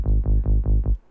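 A plain saw-wave synth bass plays five even, punchy notes in a steady rhythm, loud and buzzy with a rich stack of harmonics, then cuts off.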